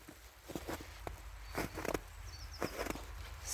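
Footsteps crunch on snow at an uneven walking pace, quiet and close, over a constant outdoor hiss of falling sleet, with no voices.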